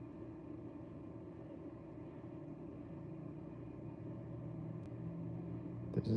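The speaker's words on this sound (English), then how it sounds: "I'm hearing an engine sound that I think is another car." A car pulls away from an intersection after stopping, its engine a low steady rumble close by that builds slightly toward the end.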